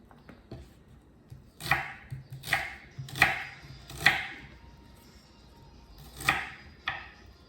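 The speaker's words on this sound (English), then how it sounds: "We're going to cut up this whole onion." Knife chopping through a whole onion on a cutting board, about six sharp, distinct cuts spaced irregularly, close and clear with a quiet background.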